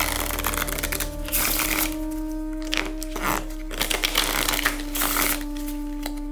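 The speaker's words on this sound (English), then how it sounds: "Let's shuffle this regular deck." A regular deck of playing cards being shuffled by hand, with repeated crisp riffling bursts and short pauses between them against a steady electrical hum.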